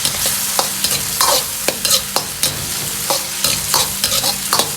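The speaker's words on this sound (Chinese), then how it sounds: "稍微翻炒" Diced green and red peppers are stir-fried in a wok with chili bean paste and cooking wine, with repeated scraping spatula strokes over a steady sizzle.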